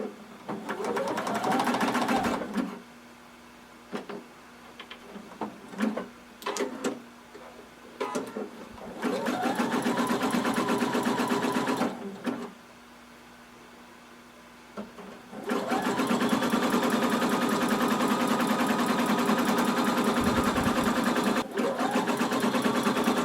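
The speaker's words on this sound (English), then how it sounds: "we're going to stitch using a 1/4 inch seam allowance" A sewing machine runs a quarter-inch seam along folded swimwear straps in three long, steady, close-up stretches of whirring separated by quiet pauses.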